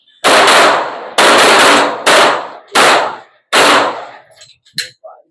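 Loud, close gunshots at an outdoor double tap shooting challenge arrive as sharp paired bursts, five in all at irregular gaps, followed by a few faint small knocks.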